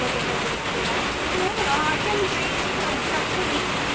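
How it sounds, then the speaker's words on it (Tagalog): Heavy rain pours steadily in a dense, hissing roar, with faint voices underneath the downpour. "Tayo ngayon ay makikipagkompetensya sa lakas ng ulan."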